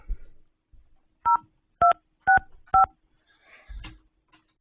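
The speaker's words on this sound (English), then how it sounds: "I'm going to call him live on the air" Four clear DTMF keypad tones beep in a steady, evenly spaced run as a phone number is dialed, followed by faint clicks and a short burst of noise, with no talk.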